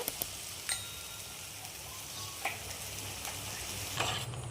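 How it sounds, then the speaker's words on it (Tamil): Steady sizzling from a hot frying pan with occasional scraping clinks as masala paste for paneer and pea gravy is stirred, continuous and close, no voices. "மசாலா எதுவும் தீங்காமல் நல்லா மிக்ஸ் பண்ணிக்கோங்க"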